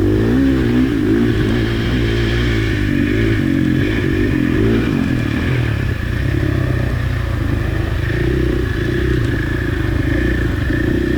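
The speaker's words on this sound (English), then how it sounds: "Kind of rev up that engine a little bit." A dirt bike engine revs hard and continuously at close range during a District 14 hare scramble race at Whiskey Creek, its pitch rising and falling with throttle over clattering and scraping from the trail.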